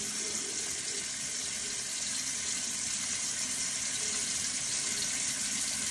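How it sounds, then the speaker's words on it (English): A bathroom tap runs at medium flow for rinsing the face, a steady close hiss of water pouring without pause, loud and even, with no voices. "I do have the water going on a medium."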